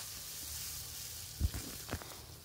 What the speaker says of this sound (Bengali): আদা আর লঙ্কা বেটে আমি কষিয়ে নিচ্ছি, ওর মধ্যে দিয়ে একদম কষানো হয়েও গেছে প্রায়, এখন জল ঢেলে দেবো